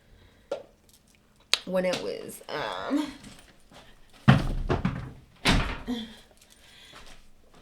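A home door is pushed shut, with a couple of solid thunks and a slam standing out sharply amid someone talking nearby.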